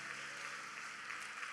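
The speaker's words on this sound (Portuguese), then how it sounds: "Vamos dar uma salva de palmas abençoada para esses irmãos." A church congregation applauds visiting guests with a dense, steady wash of clapping, somewhat distant and soft throughout.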